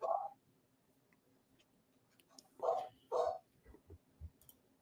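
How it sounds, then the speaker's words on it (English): A dog barks a few times at a distance, sharp separate yaps with quiet gaps between them, faint against low background noise. "I hear cats and dogs."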